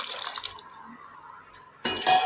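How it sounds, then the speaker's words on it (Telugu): Tamarind juice poured into a cooking pot of softened tomatoes for dal rasam, giving a short close liquid trickle and splash that swells into a louder, fuller pour near the end. "ఇప్పుడు చింతపండు రసము పోస్తున్నాను."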